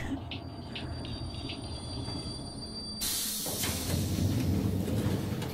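A train rolls along rails in a Splatoon 3 trailer, a steady rumble with a thin high tone early on, then a louder broadband rush and hiss of wheels on track in the second half.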